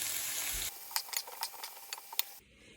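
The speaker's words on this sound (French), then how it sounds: "j'ai émincé les oignons et je vais les faire revenir dans un petit peu d'huile" Thinly sliced onions sizzle in a little oil in a pan, a steady close hiss with a few brief stirring clicks, cut short at the end.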